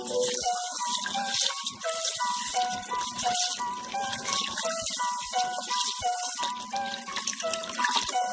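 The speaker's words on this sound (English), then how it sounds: "I just wash the rice and now" Rice is rinsed in water, giving a continuous watery rush and splashing with grains rattling in the bowl, steady and close throughout with a faint voice now and then.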